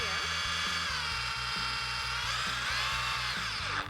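A portable variable-speed belt sander runs steadily throughout, giving a close, continuous motorized whine and buzz with a faint rhythmic low thrum. It stops abruptly at the very end.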